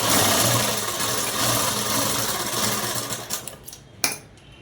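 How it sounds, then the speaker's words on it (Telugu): A sewing machine runs continuously and loudly while stitching lining cloth, with a steady motor whir and rapid needle rhythm, then a sharp clack near the end as it stops. "కుట్ అనేది వేసేసుకున్నామండి."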